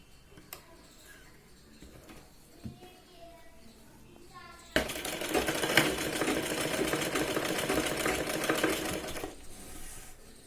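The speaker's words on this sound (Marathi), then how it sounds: "आपल्याला सरळ शिलाई जी आहे ती लावून घ्यायची" A sewing machine runs a straight side seam on a Punjabi top, whirring loudly and steadily for about five seconds after quieter moments of faint handling noise and a soft voice.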